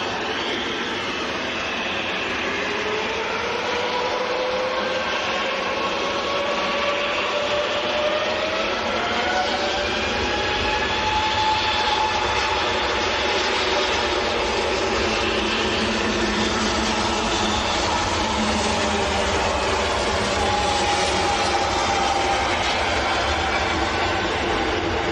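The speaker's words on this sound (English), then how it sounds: "Lufthansa that's next to go is going out to Frankfurt and it's an A320 Neo." A Lufthansa Airbus A320neo departs Manchester Airport for Frankfurt, its engines giving a continuous loud roar with gliding whining tones that shift in pitch across the whole stretch, heard alone without talk.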